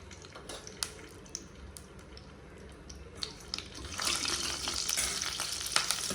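Half a teaspoon of cumin seeds frying in a pan, a steady soft crackle and hiss with scattered sharp pops, growing denser and louder toward the end.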